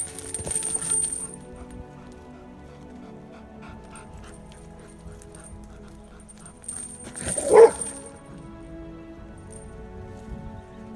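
A Malinois barks and pants during an aggression test with other dogs, in a quiet room. Faint panting runs throughout, with one burst of close, sharp barking near the end.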